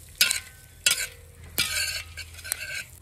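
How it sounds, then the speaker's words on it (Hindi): Pumpkin and melon seeds being dry-roasted in desi ghee in a hot kadhai for winter panjiri, with four distinct scraping stirs of a spoon over a soft, steady crackle; close and clear, no talking. "इन्हें भी हल्का सा भूनेंगे"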